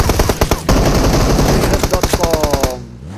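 Rapid automatic gunfire in a battle royale video game, dense bursts of loud shots crackling almost nonstop for nearly three seconds before cutting off abruptly.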